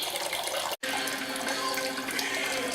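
Tap water pours into a homebrewing vessel during an IIPA brew day until it is nearly overflowing: a steady, close rushing splash that cuts out for a split second near the start, then resumes unbroken.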